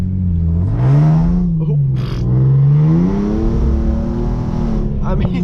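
A Hyundai Genesis Coupe 3.8 with a Solo Performance catback exhaust, driven in sport mode on a wet road, revs hard close by. Its loud engine note climbs, dips briefly, then rises again in a sustained, throaty pull.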